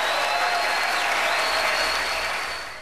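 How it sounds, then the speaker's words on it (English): Big round of applause from a televised Republican presidential debate audience for Jeb Bush, a dense, loud, steady wash of clapping from a large crowd that tapers off toward the end. "That was Governor Jeb Bush getting a big round of applause for defending his brother."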